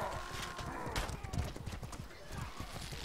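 A horse gallops in the medieval combat game MORDHAU, its hooves thudding in a quick rhythm amid battle noise, with a brief whinny and someone talking over it.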